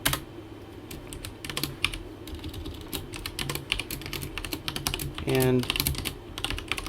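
Someone types a command on a computer keyboard, giving rapid, close key clicks in uneven bursts, with a brief voice and a short tonal beep near the end.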